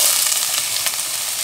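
Crushed shallots sizzling in hot oil over a low flame for chicken thoran, a steady close hiss with faint crackles and no voices.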